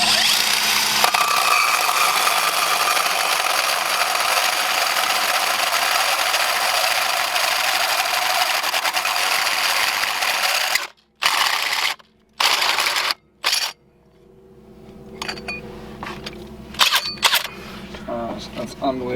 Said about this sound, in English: You just drilled through a 1/4-inch steel with a cordless drill.